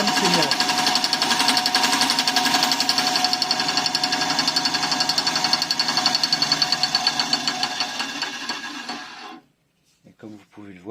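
A Korman band saw cuts through wood with a steady, loud buzzing rattle that runs for about nine seconds and then stops abruptly, followed by a few faint knocks.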